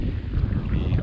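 Strong wind gusting over a lake where kayaks are out, a brief rough buffeting roar close to the microphone.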